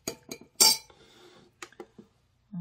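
A utensil stirs a homemade keratin shampoo mixture in a container, giving a few short clinking taps and scrapes, then a brief louder clatter followed by softer scraping and a couple more light knocks.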